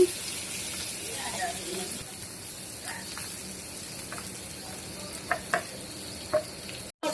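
Bitter gourd (karela) frying uncovered in a pan, a moderate, steady sizzle with occasional soft stirring knocks, ending with a brief sharp bump.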